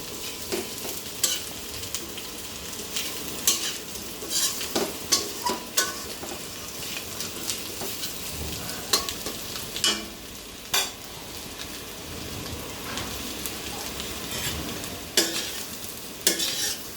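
Potato pieces frying in oil for a vegetarian potato and pointed gourd dish, a soft continuous sizzle broken by regular stirring scrapes and spatula taps against the pan, close and unaccompanied by speech.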